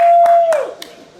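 A few scattered hand claps ring out from a small crowd at a gamescom 2014 showing of Lords of the Fallen after a player defeats a boss, sharp and close over a steady electronic tone from the game.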